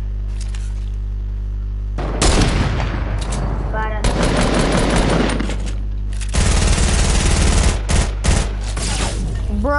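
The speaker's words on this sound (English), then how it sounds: "I'm shooting at him" Bursts of rapid video game gunfire come in loud, dense clusters separated by short lulls, several volleys over the span, with game effects and a player's voice between shots.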